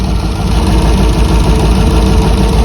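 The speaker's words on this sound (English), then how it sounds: "it sounds like a clapped out squatted truck right now" A 1979 Heavy Half truck engine idles loud and close without its boom tubes fitted, a rough, steady low rumble with constant vibration and no talk over it.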